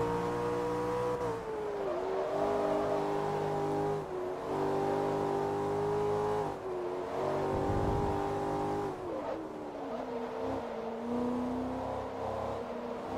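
A tuned Audi four-wheel-drive racing car in Forza Motorsport 3 drones steadily at high revs, its engine pitch dipping and climbing through gear changes and a few throttle lifts, loud and continuous with no talking.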